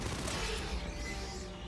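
An automated sentry turret in the video game Aliens: Fireteam Elite fires a rapid, continuous stream of shots, a dense unbroken burst close and loud for the whole moment, with no talking over it.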